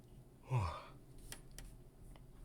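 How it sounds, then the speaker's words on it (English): A single drawn-out yawn, close and fairly quiet, rising then sliding down in pitch over about half a second, followed by low room noise and a couple of faint clicks. "Sorry for yawning so much."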